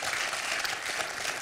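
Studio audience applause for a contestant on the French game show Questions pour un Champion, a dense wash of clapping, steady and fairly close, with no talk over it.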